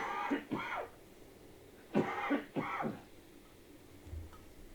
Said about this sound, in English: Hopefully we won't have too much coughing and sniffling.